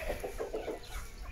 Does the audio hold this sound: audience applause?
no